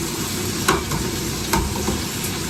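Chopped garlic sizzling with onions in a hot pan: a continuous, steady frying hiss with occasional louder stirring scrapes, close and with no talk.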